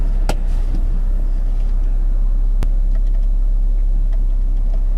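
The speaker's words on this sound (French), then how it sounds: "Donc une petite accélération pour voir un peu ce que ça donne." A BMW 340i xDrive F30 sedan with a 360-horsepower engine accelerates, heard from inside as a loud, steady low rumble with a couple of faint ticks.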